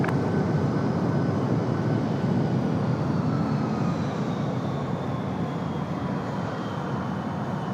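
An airliner takes off from runway 23 right at Raleigh-Durham International, its engines a loud, steady broadband roar that holds for several seconds, with a faint tone sweeping across the top and no voices.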